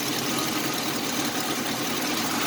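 A 1987 Chevrolet Celebrity Eurosport engine running rough, a dense steady close mechanical drone with faint unevenness and no voices, its idle previously stuck high after years of sitting.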